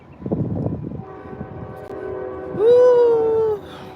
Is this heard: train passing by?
yes